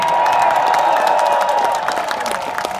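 A concert crowd at a live show in Moscow applauds and cheers for the bass player. The roar and clapping are loud and continuous, and a sustained tone runs under them.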